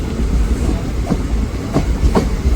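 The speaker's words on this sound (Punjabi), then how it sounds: "ਚੱਲਦੇ ਆਪਾਂ ਇੱਥੋਂ ਚੰਡੀ ਮੰਦਰ ਤੋਂ ਆਪਣੀ ਟ੍ਰੇਨ ਜਿਹੜੀ ਹੈ ਚੱਲ ਪਈ ਹੈ" Inside the Ekta Express passenger train as it pulls away from Chandi Mandir station, a loud steady rumble of wheels on rails with a few rhythmic clacks over the joints.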